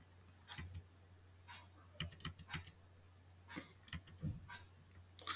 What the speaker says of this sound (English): then you type Python here